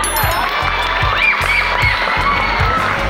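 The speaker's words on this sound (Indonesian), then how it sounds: "Baik, berikan tepuk tangan." Children at a school Children's Day celebration in Penampang cheer and shout over loud clapping, a lively crowd roar that stays steady throughout, with a pulsing bass beat thumping underneath.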